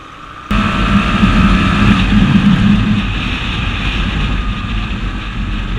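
A 2017 Bajaj Pulsar NS160 with a 160cc engine bursts in abruptly after a moment of quiet, then holds a loud, close, steady engine drone that eases slightly toward the end.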